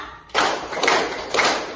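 A classroom of high school students clapping together in a rhythmic cheer during a geography lesson, heard as loud, dense bursts of claps close by, rising in a few surges.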